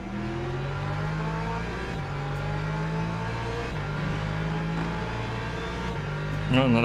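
A race car in the Le Mans Ultimate racing game, at Daytona or Laguna Seca, gives a steady, droning engine note that shifts pitch as it goes. A louder burst near the end suggests another car closing in.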